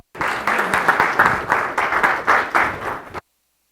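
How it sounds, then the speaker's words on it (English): A small audience at a city council meeting claps for about three seconds, a close, moderately loud burst of applause that swells in uneven waves and then stops abruptly, leaving silence. "Give him a round of applause."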